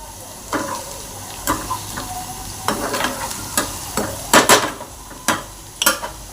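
Onion frying in a pan for a farsan vegetable dish, with repeated scraping stir strokes and clinks of a spoon against the pan over a steady low sizzle, close and moderately loud.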